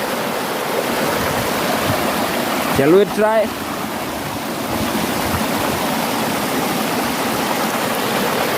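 A stream in Kenya rushes steadily throughout, a constant broadband wash of flowing water, with a brief exchange of voices cutting in partway through.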